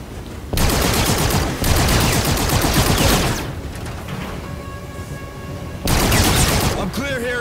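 Sustained heavy automatic gunfire from the video game Call of Duty: Infinite Warfare, loud and dense in two long bursts with a quieter gap of distant shots and electronic tones between them.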